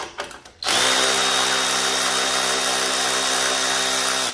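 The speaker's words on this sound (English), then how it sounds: "I got a 10 millimeter on my Milwaukee 3/8 battery operated ratchet" Milwaukee 3/8 battery-powered ratchet with a 10 mm socket spinning out snowblower cover bolts: a few short handling knocks, then a loud, steady motor whine with a buzzing ratchet hum running continuously for several seconds close by.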